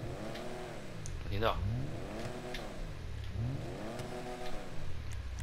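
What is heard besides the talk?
upgraded Lampadati Casco car engine revving in the video game GTA 5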